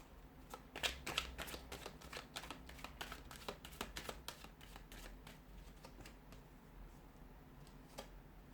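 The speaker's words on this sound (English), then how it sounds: "So we'll give the cards a shuffle" Tarot cards being shuffled by hand, a run of crisp, rapid riffling clicks and soft slaps, close and fairly quiet, thinning out toward the end with a final snap.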